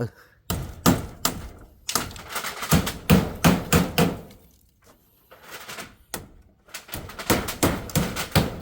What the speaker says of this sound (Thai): ตอกจากเทิงตึ้ม